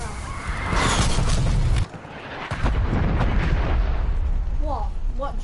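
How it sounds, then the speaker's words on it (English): Artillery strike explosions in a video game, a rumbling barrage of booms that breaks off briefly and then resumes, with in-game radio chatter over the blasts. "Artillery targeting detected. Artillery inbound."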